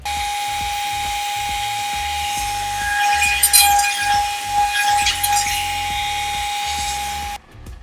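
A router on a router table cuts a round-over profile along a wooden edge, a loud steady high-pitched whine that runs alone for about seven seconds, with rougher cutting bursts midway, then stops abruptly.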